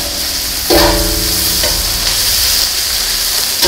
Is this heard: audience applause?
no